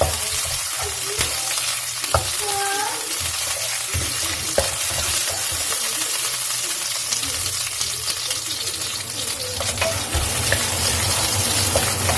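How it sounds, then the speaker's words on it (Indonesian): Ginger is stir-fried in a pan for tofu and egg bacem. A steady, close sizzle runs throughout, broken by scraping stirs and a few light clinks of the utensil against the pan. "Langkah pertama tumis jahe ya, sampai wangi."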